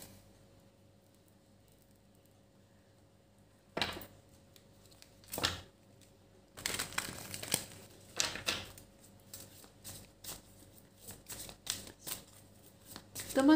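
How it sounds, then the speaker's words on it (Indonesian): Oracle cards are shuffled by hand after a quiet pause, a rapid papery riffling and flicking that comes in bursts and grows busier, close and fairly loud. "aku ambil kartu"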